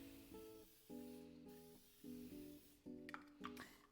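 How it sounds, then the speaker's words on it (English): Nonstick cooking spray hisses onto a heated pan in a few short, quiet bursts near the end, over a steady tonal background. "I'm going to spray some nonstick spray."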